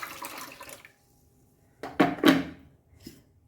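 Water poured into a pot of Goan bilimbi sorak: a few quick splashy pours with short gaps between them, close and moderately loud, following a stretch of faint kitchen clatter, with no voices.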